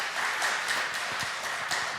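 A church audience in Jeonju claps to welcome a guest speaker, with brisk, close hand claps in a short, even burst and no talking over them.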